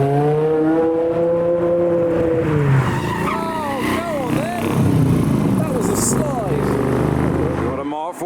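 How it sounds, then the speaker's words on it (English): A V8-powered Toyota Supra downshifts, its engine note falling sharply before revving and squealing tyres take over, loud and close, with excited talk running over it. "This one's powered by a V8. Oh, listen to that."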